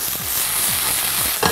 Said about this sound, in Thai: ผมก็จะใส่ผักลงไปผัดเพราะนั้นเวลาใส่ผักลงไปผัดเนี่ยผักแข็งเราก็ใส่ก่อนแล้วก็ใส่น้ำไปนิดนึงครับ